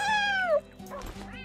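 A pet cat in the Minecraft Bedrock Spark Pets addon gives one clear, close meow with a falling pitch, followed by softer game sounds.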